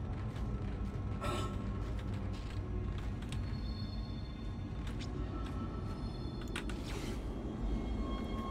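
A tram in the video game Dead Space rumbles and creaks steadily as it moves, with metallic clanks and squeals over a continuous low mechanical drone.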